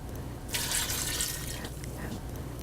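Water is poured into a bowl of pineapple, green chillies, turmeric and chilli powder for pineapple pulissery, making a brief splashing, trickling pour that starts suddenly and fades after about a second.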